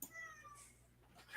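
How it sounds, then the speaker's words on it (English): A house cat meows in a series of drawn-out, wavering cries, quiet and at close to moderate distance, with no one talking over it. "Goddamn fucking cat."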